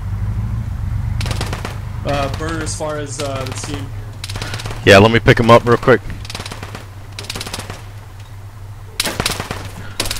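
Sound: gunfire from a video game, ARMA 3

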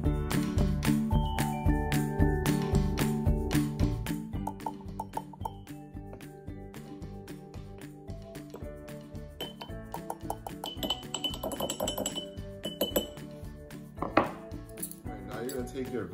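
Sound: spoon scooping cornstarch into glass jars

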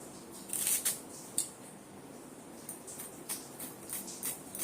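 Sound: knife finely slicing onions

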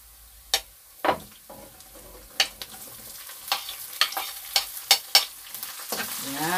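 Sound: garlic and onion sautéing in a pan

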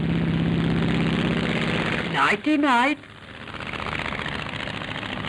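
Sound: airliner's propeller engines droning in flight

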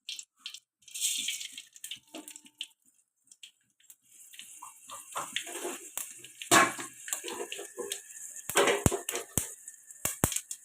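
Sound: mustard seeds crackling in hot oil

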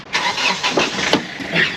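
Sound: car engine starting

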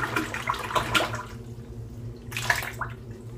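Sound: wetting a shaving brush in water

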